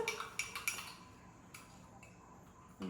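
A spoon clinks against a glass while stirring powder into milk, a few sharp metallic taps near the start then quieter scraping, close and fairly faint with no talk.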